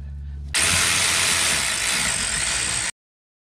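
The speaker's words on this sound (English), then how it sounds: "Let's go ahead and put our two bolts in." A tool tightens bolts on a Nissan Sentra CV axle with a continuous loud mechanical whir that starts suddenly and runs for a couple of seconds before cutting off sharply, close by and without talk.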